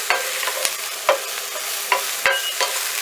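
Broccoli with fresh shredded Parmesan being stirred in a pan, with a steady sizzle and several distinct spatula scrapes and taps spaced through it, close and fairly loud, no voices.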